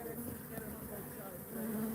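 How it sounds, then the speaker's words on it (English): A swarm of killer bees buzzes around a metal mining hoist, giving a steady, dense hum that stays fairly close and continuous. "So these are remnant bees."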